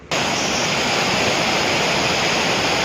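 Steady, dense rushing of river water flowing near a dam, a loud continuous wash with no breaks, heard close and alone.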